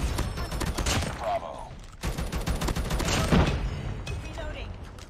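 Gunfire from a first-person shooter video game, bursts of shots repeating steadily through the whole stretch, mixed under a player's voice talking over it.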